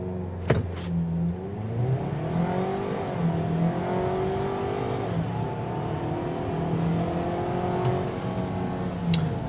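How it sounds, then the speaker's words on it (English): A 2024 Ford Maverick Lariat turbo in sport mode pulls hard from a standstill to 60, its engine note climbing and dropping steadily through gear changes, heard steady and fairly loud from the cabin. "Just quick 0 to 60 test here."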